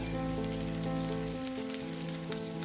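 Fried potatoes drop into a pan of hot oil and spices for an Asian olive barb (shor puti) fish curry, giving a steady close sizzle that crackles on without a break.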